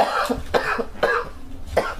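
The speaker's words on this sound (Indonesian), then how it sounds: "Batuk lu kagak berhenti-berhenti lagi." A person coughs four times in quick, rough bursts, close and fairly loud, with short pauses between each cough.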